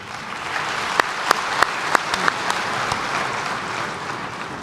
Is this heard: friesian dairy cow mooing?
no